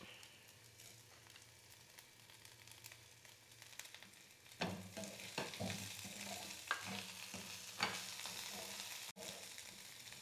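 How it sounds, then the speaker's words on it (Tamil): Tamarind frying in oil in a pan while making ginger chutney, a steady soft sizzle that grows louder midway, with clatters of stirring and a few sharper knocks against the pan. "புளி இந்த எண்ணெயில் வறுப்பட்டால் நல்லாயிருக்கும், வாசமாக இருக்கும்."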